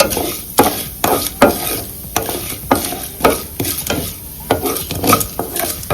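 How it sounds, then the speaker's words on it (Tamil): Mustard seeds and urad dal sizzle in hot oil in a pan as a spoon stirs them again and again, a steady frying hiss broken by sharp scraping strokes at regular intervals. "இதுல கடுகு, உளுத்தம்பருப்பு போட்டாச்சு. இது நல்லா ஃப்ரை ஆகட்டும், நல்லா வதங்கட்டும்."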